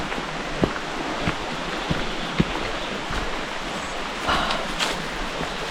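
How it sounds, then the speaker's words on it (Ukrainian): A small river flowing away from the Horodylivskyi waterfall gives a steady, close broadband rush of running water with a few faint clicks, and no voices over it. "Це річечка, що йде від водоспаду."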